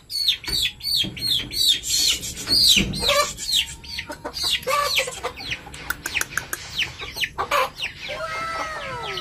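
Dumpo line chicks and pullets cheeping and clucking, a dense flock of rapid high peeps and calls overlapping close by, with occasional soft rustling underneath.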